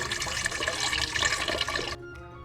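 Leftover water draining and splashing from a toilet tank after the fill valve is pulled out, a loud rushing gurgle that cuts off abruptly after about two seconds, leaving a quieter trickle.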